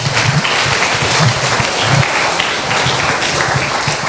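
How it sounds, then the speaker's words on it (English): A crowd at the YES Launchpad 2025 event applauds loudly and steadily, a dense wash of clapping that carries on for about four seconds without pause. "so let's give them a big round of applause."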